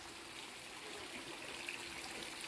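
Water splashes and spills steadily from a turning wooden mill wheel at an old open-air museum mill in Stübing, Austria, a continuous close rushing trickle with no voices.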